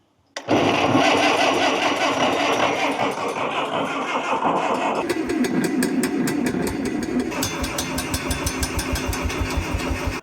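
An abandoned 1957 Farmall tractor engine running on propane cranks and catches almost instantly, then settles into a loud, close, rough idle that grows into an uneven rhythmic chugging.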